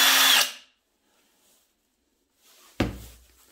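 A Parkside Performance PASSP 20-Li A1 1/2-inch cordless impact wrench gives one short, loud whirring burst, then falls silent before a single dull knock.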